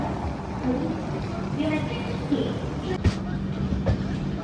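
Kozhikode Jan Shatabdi Express on its first run with LHB coaches, curving off the loop onto the main line near Ernakulam: a steady onboard rumble with a couple of sharp wheel clacks toward the end.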